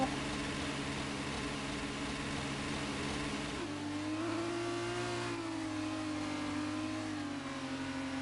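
Race car in a racing video game, engine revving loud and steady as it weaves to warm its tires, with a gear shift partway through and the pitch rising then settling.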